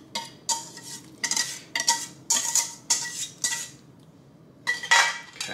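A metal whisk scrapes and clinks against a saucepan while custard is pulled out of it, in short bursts of metallic scraping with brief pauses between strokes, close and fairly quiet.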